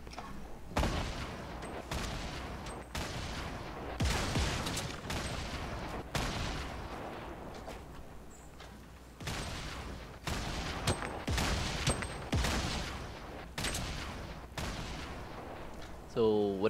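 Rapid bursts of gunfire and grenade explosions from a Fortnite match, dense and loud, with repeated sharp shots and booms filling the whole stretch with almost no pause.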